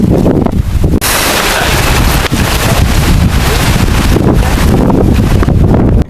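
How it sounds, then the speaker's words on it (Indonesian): Strong wind roars across a mountain camp after a storm, a loud continuous buffeting rush that batters the microphone with gusty surges and no voices. "tapi angin masih saja berhembus kencang"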